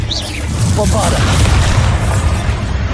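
Bombarda spell explosions in Hogwarts Legacy gameplay on a PS4 Pro, heavy booming blasts with crackling debris filling the whole stretch, loud and dense amid battle noise, with a voice talking over it.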